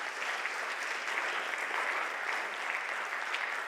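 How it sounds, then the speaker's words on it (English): Steady, dense applause from a conference audience continues evenly for several seconds, a broad wash of clapping with no pauses and no voices. "A round of applause for our sharing from TEF-Health."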